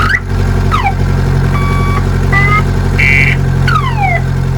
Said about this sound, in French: Et donc du coup à ce niveau-là on a plusieurs klaxons.